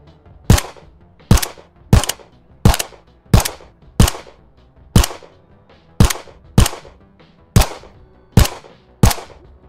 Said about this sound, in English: I think that the pistol close layer is a bit too loud, so I'll lower it.